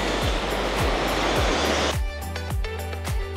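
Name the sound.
seaside waves on Boracay beach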